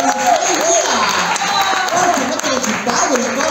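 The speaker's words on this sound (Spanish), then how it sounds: "fuertes los aplausos para Nidia Visconti" Audience applause and cheering for a contestant at a queens' casting show, a dense continuous clapping wash with a voice rising over it throughout.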